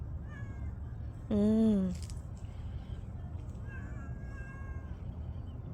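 A feral backyard cat lets out one loud, drawn-out meow close by, followed later by fainter vocal sounds, with a person murmuring softly.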